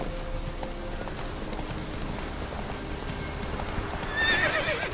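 A horse in The Witcher 3 galloping with steady hoofbeats under a dense layer of game ambience, with a brief whinny rising near the end.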